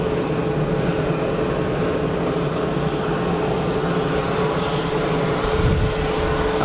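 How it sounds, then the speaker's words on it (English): Embraer E190 airliner at Geneva Airport, a steady broadband engine roar holding at a constant level throughout, with a low rumble swelling briefly near the end. "Ah, it was an Embraer."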